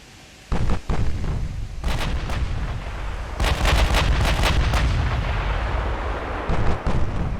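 Heavy naval gunfire booms out in Ultimate Admiral Dreadnoughts, loud and close, with several separate blasts and then a dense cluster of shots over a rumbling battle background.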